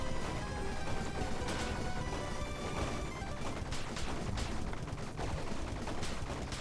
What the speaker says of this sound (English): I have to just machine gun or pistol him down